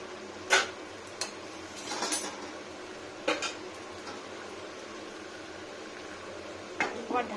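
Chicken is stirred with cumin paste in a pan: scattered spoon-on-metal scrapes and clinks over a soft, steady frying hiss, with a few sharper knocks near the start and end.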